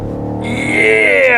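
BMW X6 M50i engine in Sport Plus mode revving up, a loud, rising roar with climbing pitch that swells over about a second and a half.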